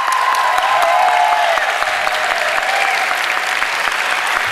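Loud, dense applause from an audience at a public debate, many hands clapping steadily and close throughout, with faint crowd murmur underneath.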